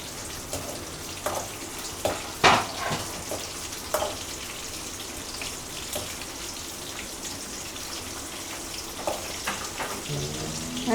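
Onions sautéing in a pan for Chettinad fish gravy give a steady, soft crackling sizzle with occasional clinks and scrapes of a spoon, fairly close and alone.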